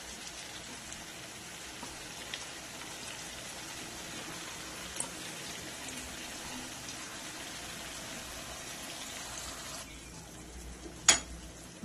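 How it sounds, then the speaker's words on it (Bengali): Chicken rezala marinade poured into a hot pan over chicken already fried on both sides, giving a steady, faint sizzling hiss throughout, with a brief louder clatter near the end. "এবারে যে ম্যারিনেশনটা আমাদের বাটিতে পড়েছিল সেইটা এর মধ্যে আমি দিয়ে দেবো।"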